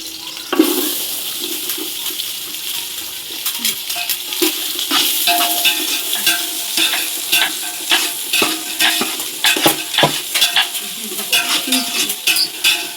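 Green chillies roast in a little oil in a pan, giving a loud, steady sizzle broken by frequent scraping and stirring clatters. It is close and continuous, with no voices.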